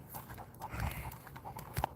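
A dog pants rapidly with its tongue out in hot weather outdoors, a run of soft breathy puffs at close range with a couple of light thumps, no talking.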